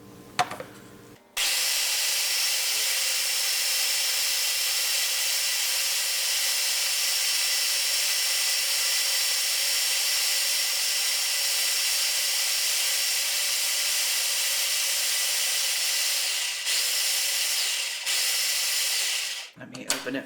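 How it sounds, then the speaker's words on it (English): A food processor blends canned tomatoes and peppers for salsa, starting abruptly with a steady loud whirring motor drone that runs continuously for about eighteen seconds, with slight changes near the end before it stops. "I'm going to close my food processor and I'm going to process this until it's very, very smooth"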